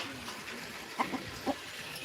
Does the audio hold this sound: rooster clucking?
yes